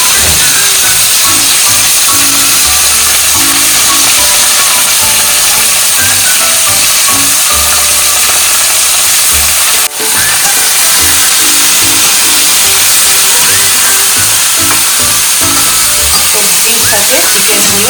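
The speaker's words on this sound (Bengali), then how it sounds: "তেলে ভালো করে ভেজে নেব। এগুলো এখন ফ্রাই হচ্ছে।" Boneless chicken pieces and vegetables fry in hot oil for a chili-chicken-style dish, a loud, continuous steamy hiss close by, with a voice talking faintly underneath.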